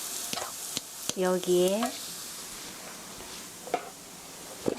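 Flour stir-fries in a pan with a soft, steady sizzle and a few light scrapes, while a voice briefly speaks and hums over it near the start.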